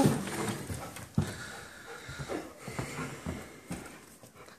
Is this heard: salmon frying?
no